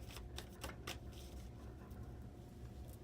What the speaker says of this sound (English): I shuffle in between my readings to clear the deck of the previous energies